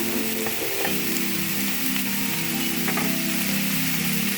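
Jerusalem artichoke shoot greens stir-fried over high heat with soy sauce, onion, ground pepper and green chili, giving a continuous loud sizzle with faint scraping of the pan as the greens are stirred.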